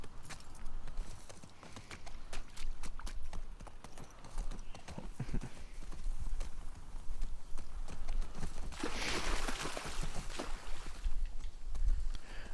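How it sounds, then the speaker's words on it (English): Horse hooves clip-clop steadily in The Last of Us Part II gameplay, a continuous rhythmic walking gait with occasional snorts, moderately loud over a faint ambient outdoor game soundscape. "Should probably get back on the horse"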